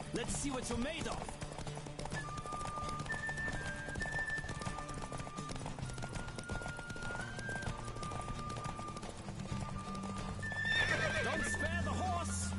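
A Witcher video game horse race: rapid galloping hooves and a loud whinny near the start, running continuously beneath game music and spoken voices.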